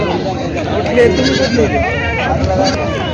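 Goats at a busy weekly goat market in Vasmat bleat now and then amid a crowded din of people talking, the animal calls mixed into continuous chatter.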